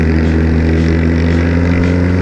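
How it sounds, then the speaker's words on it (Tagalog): A Kawasaki Ninja ZX-10R motorcycle with the exhaust baffle removed drones at a loud, deep, steady pitch, close and unbroken throughout with no talk. "parang kanyon yung tambutso, parang kanyon yung muffler niya"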